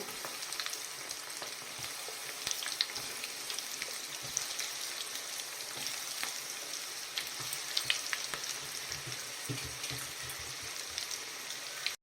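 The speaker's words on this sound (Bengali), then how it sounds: "ভালোভাবে ফ্রাই করে নিতে হবে। সবগুলোই আমি একসাথে দিয়ে দেব।" Vegetable chops sizzle steadily in hot oil, a dense crackling fry running throughout at moderate level with small pops and spatters, no voices.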